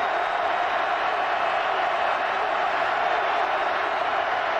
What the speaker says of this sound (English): Crowd is going nuts.